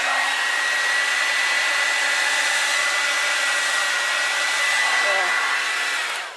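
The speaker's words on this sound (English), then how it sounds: "It's all noise, but no action with this blower." A loud electric air blower used for pour painting whirs steadily for several seconds with a constant droning pitch, blowing no air, then briefly cuts down at the end.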